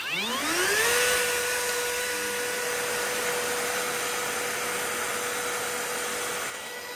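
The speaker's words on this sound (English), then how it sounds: "Need our dust collection." A dust extraction vacuum for a router spins up with a rising whine, then runs steadily and loudly with a constant high-pitched hum and airy rush.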